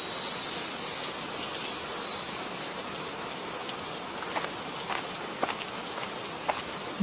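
Rain falls in a cartoon storm, a steady soft hiss that is brighter at first, then settles, with scattered sharp drip ticks and no speech.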